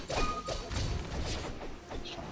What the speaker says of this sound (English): it just does one massive explosion that also has an increased radius